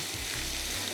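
Garlic sizzling in hot oil for a dal tadka in a desi methi dal kitchen, a steady close crackle that holds evenly for about a second with no talk.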